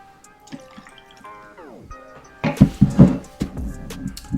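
Monkey Shoulder Scotch whisky poured for a cocktail, a short run of close liquid splashes and glugs after a quieter stretch with a falling whistle-like tone and light clinks.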